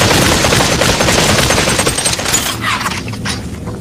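Rapid automatic gunfire from the VR shooter Population: ONE rattles loudly and continuously for several seconds, with overlapping bursts and booms before tapering into scattered shots.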